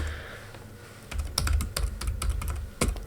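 Typing Java test code on a computer keyboard: after a quiet start, a steady run of close, clattering keystrokes, alone and without talk.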